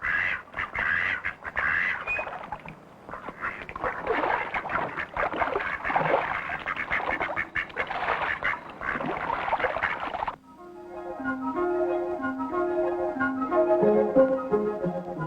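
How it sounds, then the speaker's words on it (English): Mallard ducks quacking and squawking in a series of raspy calls at moderate distance for about ten seconds, then giving way to a melodic musical passage. "In late March and early April, although winter's grip may still be on the land, the mallards begin to arrive on their nesting grounds."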